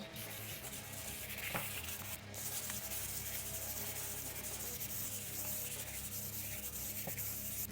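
Steady, continuous scratchy rubbing of sandpaper across a wooden guitar neck, an Ibanez RG270, a close, even sanding texture that runs without pause and without any talking.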